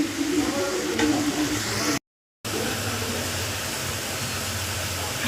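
Prawn and dried fish thokku frying in a pan sizzles loudly and steadily, with a brief full silence around two seconds before the hiss resumes unchanged.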